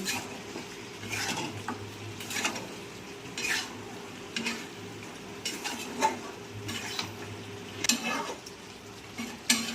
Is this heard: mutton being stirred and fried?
yes